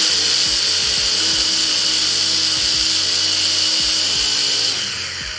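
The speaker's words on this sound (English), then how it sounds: "and I will blend again." A kitchen blender whirs steadily as it blends a watery black-eyed pea mixture, a loud, continuous high-pitched motor drone with faint rhythmic knocking underneath, easing off slightly at the very end.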